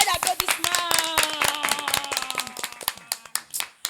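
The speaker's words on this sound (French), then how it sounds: "Sur un tonnerre d'applaudissements." A few people clap sharply and irregularly to welcome a guest onstage at a music show, with the claps cutting through a voice talking or singing in the foreground.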